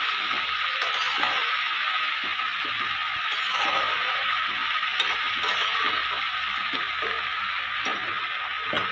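Cabbage bhujia frying in a pan with turmeric, under a lid, gives off a steady sizzling hiss scattered with small crackles and pops, heard alone at moderate loudness.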